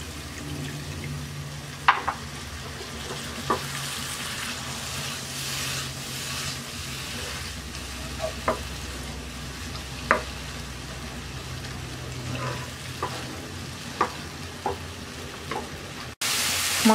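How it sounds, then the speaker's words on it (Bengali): A spice paste of chili powder, coriander powder and turmeric, loosened with a little water, fries in a pan for a Bangladeshi chicken and potato curry. It gives a steady, soft sizzle, punctuated by scattered clicks of a stirring spoon, with no talking. "অল্প একটু পানি দিয়ে মশলাটা কষিয়ে নিচ্ছি।"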